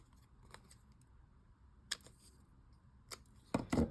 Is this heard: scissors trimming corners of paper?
yes